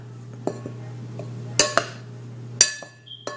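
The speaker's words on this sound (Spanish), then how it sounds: "y mezclamos bien. Las voy a mezclar" Carrot cake ingredients being mixed in a bowl: a few clinks and clatters of a utensil against the bowl over a steady low hum, with no talking.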